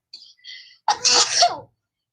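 A single sharp human sneeze, with a brief breathy intake just before it, loud and close, with no talking around it.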